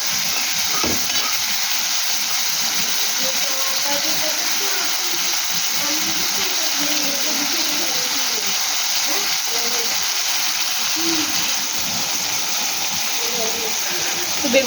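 Salted eggplant pieces frying in a pan make a constant, dense sizzle and hiss that hold steady for about fifteen seconds. A faint voice sometimes sits low under the frying.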